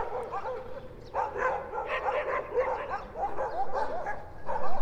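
Dogs on Elephantine Island in Aswan, Egypt, give repeated yips, whimpers and short barks at moderate distance in a steady outdoor scene, with no traffic noise.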